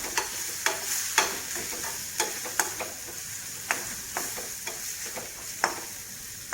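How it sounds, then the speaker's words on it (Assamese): Spatula stirring turmeric, cumin and coriander powder into an egg gravy in a hot pan: an irregular series of sharp scraping clicks over a soft, steady sizzle, close and quiet, with no speech. "এইখিনি পুনৰ এনেকৈ লৰাম"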